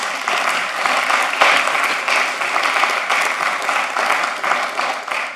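Applause from the audience at a commission meeting, many people clapping steadily for several seconds, bright and fairly close, with a few louder individual claps standing out and no talk over it.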